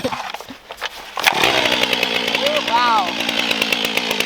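A STIHL 500i chainsaw starts after a quiet lead-in and then runs loud and close, its engine buzz steady with revving swells, while a voice briefly exclaims over it.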